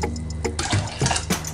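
Water sloshing and splashing into a pot of green beans in short bursts, close by, with a few clinks against the metal.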